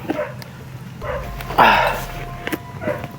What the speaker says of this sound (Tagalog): may narinig po tayong aso